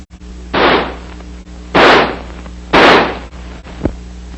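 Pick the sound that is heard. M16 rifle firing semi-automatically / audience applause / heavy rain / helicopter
M16 rifle firing semi-automatically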